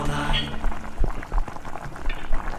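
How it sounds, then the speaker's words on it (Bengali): Rohu fish curry broth boiling in a pan, with a steady bubbling wash and soft popping carrying throughout at moderate level, with some low background noise and faint kitchen sounds. "দেখুন কি সুন্দর ফুটতে শুরু করেছে"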